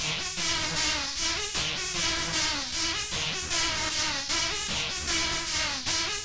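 A synth run through the Crunchyroll preset from the EFX Motions Archetype bank, giving a dense, gritty, warbling melodic texture in steady repeating phrases, loud and unaccompanied by voice.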